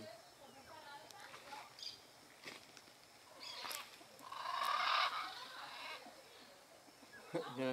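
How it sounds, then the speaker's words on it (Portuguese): A blue macaw in the countryside gives a few harsh squawking calls, the loudest burst coming midway, while people talk nearby. "É, a famosa arara azul."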